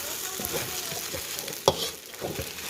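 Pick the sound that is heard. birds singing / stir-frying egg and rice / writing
stir-frying egg and rice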